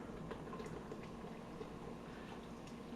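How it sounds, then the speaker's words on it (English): A can of beer pours steadily into a pot of rolling, bubbling boiling water for shrimp, a continuous close gurgle with no talking. "what I'm going to do is go ahead and put in a can of beer"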